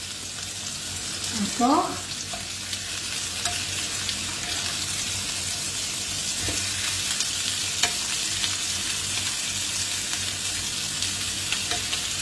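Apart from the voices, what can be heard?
veal osso buco browning in butter and oil, being turned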